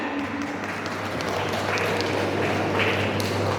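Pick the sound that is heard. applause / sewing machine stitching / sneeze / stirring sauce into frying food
applause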